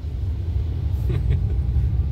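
Street traffic in the Philippines heard from inside a car, a steady low engine and road rumble filling the whole stretch with a couple of faint passing swells.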